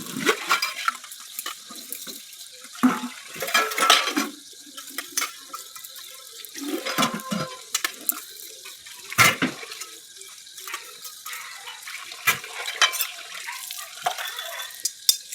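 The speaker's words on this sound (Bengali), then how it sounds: "বাসন কটা মাঝে বসে পড়লাম মাজা প্রায় হয়ে গিয়েছে এবার ধুয়ে নেবো বাসন কটা" Washed utensils being rinsed under an outdoor tap, with intermittent splashing water, clinking metal pots and scattered knocks of dishes set down close by.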